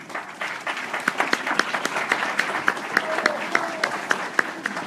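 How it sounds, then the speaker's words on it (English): Loud, close applause from a city council candidate forum audience, many hands clapping in a brisk, dense patter with individual sharp claps standing out, and a brief voice underneath midway. "give them a round of applause, please"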